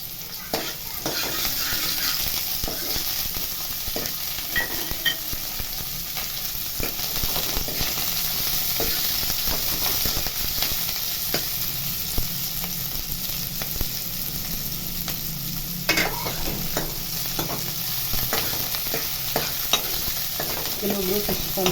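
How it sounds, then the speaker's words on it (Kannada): Onions frying in hot oil in a pan for fish sambar, stirred steadily: a continuous soft sizzle sits under repeated scraping and tapping of the spatula, close but moderate in level. "ಈಗ ಇದಕ್ಕೆ ನಾನು ಈರುಳ್ಳಿ ಹಾಕೋತಾ ಇದ್ದೀನಿ"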